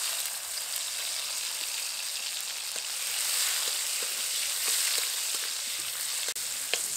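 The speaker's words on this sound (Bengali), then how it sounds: "এবার এর মধ্যে দিয়ে দেবো টমেটো কুচি।" Chopped tomatoes sizzle in oil left from frying fish, a steady close frying hiss with scattered small pops and crackles throughout, with no talk.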